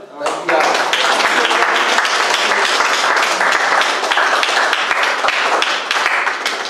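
An audience at a coding bootcamp demo day in Mauritius applauds the teaching team, a dense, steady wash of clapping that starts abruptly and holds loud and close for several seconds.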